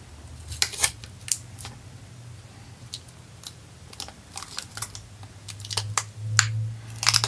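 Adhesive tape being handled and pressed around a Ford Focus driver door lock cylinder, with scattered short crackling and sticky rustling bursts over a low steady hum.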